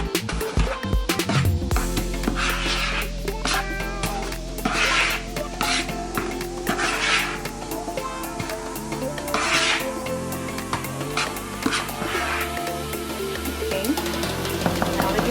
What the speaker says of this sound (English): we're gonna go ahead and mix all of this together